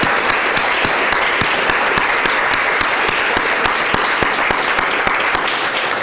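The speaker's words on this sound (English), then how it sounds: "giving a round of applause to our panelists" An audience applauds panelists at an evening Latino Endowment Fund discussion event, a dense, steady round of clapping from many hands that holds loud and even throughout.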